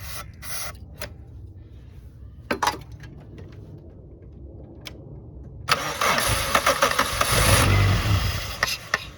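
Suzuki Swift 1.6 AWD engine cranking after a shot of easy start spray: a few short bursts of effort early, then a loud sustained roar of the motor catching and running for the last few seconds.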